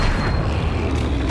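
A spell fired in the video game Hogwarts Legacy hits with a loud, explosive boom, a thick sustained burst of low rumble and crackle filling the brief moment, with no voices.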